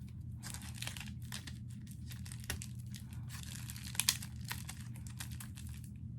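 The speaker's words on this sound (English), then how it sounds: "so we are going to actually tape and band this" Tape and banding being applied to a plant package, with soft crinkling and tearing of tape and plastic in short bursts over a low hum, quiet and close with a few sharper crackles.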